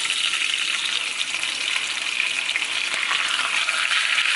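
Ribeye steak searing in a cast iron pan on a stovetop, a dense, steady, close-up sizzle with bright spitting crackle running unbroken throughout.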